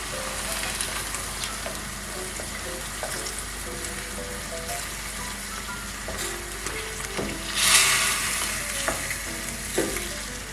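Wild boar meat simmers with tomato sauce in a pan, giving a steady close sizzle and bubbling broken by intermittent stirring clinks, with one louder sputtering burst.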